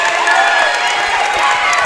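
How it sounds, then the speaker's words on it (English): Crowd at a boys high school basketball conference championship game, William Penn versus Mount Pleasant, cheering and yelling steadily, dense and loud, with voices mixed throughout. "And now the crowd, you hear them on the right side getting into it"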